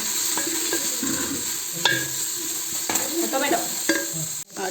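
Masala with chillies and turmeric sizzling in a pan for mutton curry, stirred with a utensil that scrapes and clicks steadily against the metal over a constant close frying hiss.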